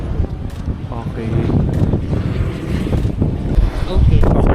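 Gusty wind near windmills buffets the microphone with a loud, continuous low roar that swells toward the end, while people talk underneath.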